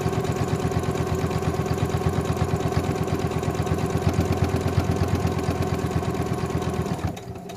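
A sewing machine runs a continuous seam down the edge of a fabric face mask, its needle hammering in a fast, steady rhythm throughout before winding down at the end.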